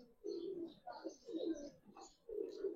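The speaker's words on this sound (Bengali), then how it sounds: "আর আজকের ভিডিওতে যেই কবুতর দেখাইলাম প্রত্যেকটা ইয়াং" Young Giribaz and coloured pigeons coo softly in low, rolling phrases, a few overlapping bursts with short pauses between them, heard close but quiet.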